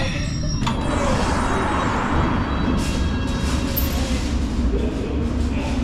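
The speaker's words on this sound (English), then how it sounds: "Let's get off this train." A London Underground train pulls into Temple station, a steady broadband rumble of wheels and motors filling the platform, with brief hissing and high squeal touches as it slows; no one speaks.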